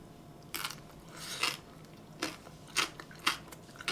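Someone eats bibimbap close to the microphone, with a series of soft, crunchy bites and chewing sounds spaced irregularly over a quiet background.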